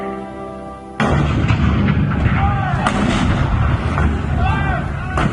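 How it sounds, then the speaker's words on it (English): Cannon fire effect in the Hall of Presidents show at Walt Disney World's Magic Kingdom, marking the Fort Sumter attack: a sudden loud boom after a quiet second, then sustained rumbling battle noise with whistling shells overhead. "The cannon spoke for war, bitter, violent, and devastating."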